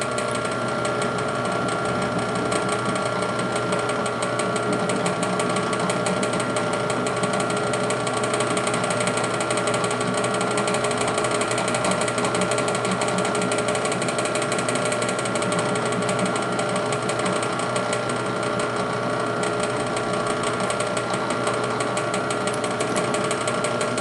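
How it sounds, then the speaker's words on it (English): A drill boring a 3/32 hole through a tube clamped in a vise for a Ludwig drum stand build, a loud steady whirring grind held for the whole stretch without a pause. "So I just started my little pilot hole there, and this is our 3/32 hole here, chucked up in the vise."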